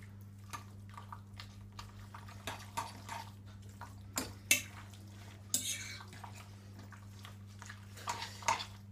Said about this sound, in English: we'll get that all stirred in so that it's well evenly distributed amongst all of the pasta